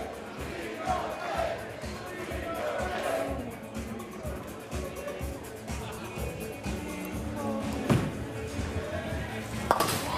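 A crowd cheers and murmurs steadily through a PBA bowling league quarterfinal match, broad continuous noise with faint clinks and a couple of sharp pin-like cracks near the end, under background talk.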